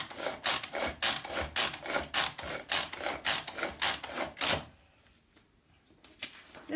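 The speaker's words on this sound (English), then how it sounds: "You want to grind these up a little bit so the pieces aren't quite so big." Toasted quinoa energy bite ingredients are ground by hand in a steady rhythmic rasping rub, about a dozen strokes close up, then stopping into near quiet.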